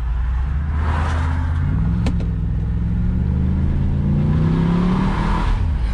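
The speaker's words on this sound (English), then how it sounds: "Melting the tires a little bit there." LS-powered GM sleeper car accelerating hard on a slightly wet road with tires spinning: a loud, continuous engine roar with rising and falling revs and a deep rumble, close by throughout.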